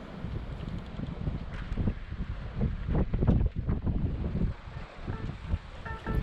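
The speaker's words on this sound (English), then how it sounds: "The predicted northerly has started to blow" A northerly wind blows across a boat at anchor off Great Keppel Island, gusting and buffeting the microphone in rough surges, with water slapping and rigging rattling faintly below.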